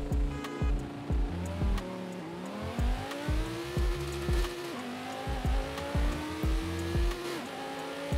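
Twin-turbo car engine in Forza Horizon 5 revving and shifting up through gears, pitch climbing and dropping repeatedly with rhythmic bursts, loud and close, alongside tire squeal and no talk.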